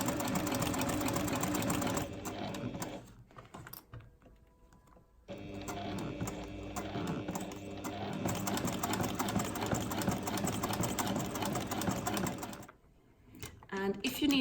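A sewing machine stitches a seam on rolled bag-handle fabric, a loud, fast mechanical whir in long runs with short pauses and a stop near the end, a voice talking faintly under it.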